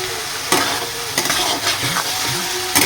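Potatoes and spices fry in oil while being stirred, a steady sizzle broken by several sharp scraping strokes of a spoon against the pan, close and alone without talk.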